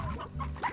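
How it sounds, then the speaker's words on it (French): Chickens in the video game Slime Rancher give brief close clucks, a few quick notes alone without voices. "Il y a des poules."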